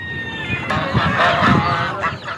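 Ducks, chickens and pigeons crowd a poultry market in Kuwait, giving off a busy mix of overlapping honks and squawks at close range over a steady bustle, with no clear speech.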